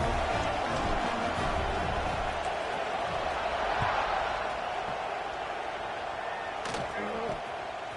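A large stadium crowd at an LSU football game just before kickoff makes a steady, distant roar, with a broadcast commentator talking over it.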